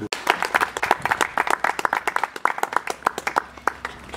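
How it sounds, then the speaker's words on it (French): Enthusiastic applause for the first graduating class of doctors at a university ceremony, a mix of rapid close claps and wider crowd clapping, fairly loud and tapering slightly toward the end. "Je pense qu'il faut une acclamation."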